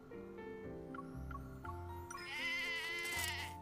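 A sheep bleats in a video game, a wavering, tonal cry over a soft background of game music. The bleat swells louder toward the end, and no speech is heard.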